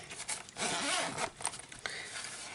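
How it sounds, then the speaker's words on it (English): A zipper pulled open along a stamp storage case, a quick close rasping run with a few short scrapes and pauses, quiet and with no talk. "got zippers that open this direction."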